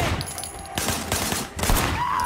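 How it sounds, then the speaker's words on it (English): Gunfire in the open-world action game Sleeping Dogs, with shots fired from a car's passenger window: a dense fusillade of overlapping bursts that carries through the whole stretch over constant engine and street noise. "Firing shots from the passenger window."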